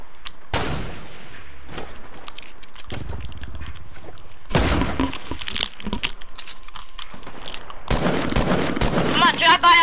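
Rapid video game gunfire rattles out in several loud bursts during a drive-by, with fast repeated shots clustering near the end among game noise.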